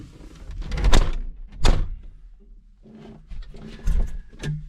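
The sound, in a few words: cab door of John Deere 5075 GV tractor closing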